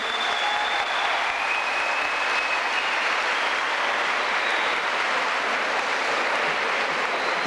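Sustained, dense applause from a large audience at a school ceremony, loud and steady throughout with no break.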